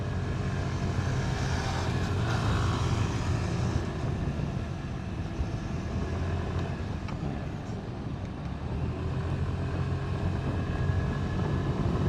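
Suzuki Burgman 125 scooter accelerating along an empty road, a steady engine drone mixed with strong wind rush that holds loud and continuous throughout, with no talking.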